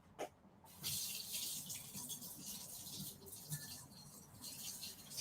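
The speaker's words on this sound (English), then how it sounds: "Let me go rinse this brush out" Hot water runs steadily from a tap while a brush is rinsed under it, a close, continuous splashing hiss that starts after a brief knock and carries on alone to the end.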